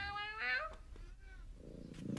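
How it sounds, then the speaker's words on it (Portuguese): A domestic cat lets out one drawn, rising-and-falling meow at close range, followed by a quieter short trailing cry and a soft rustle, then near silence. "um gato descobre que a melhor maneira de conseguir a atenção do dono é fazendo barulho"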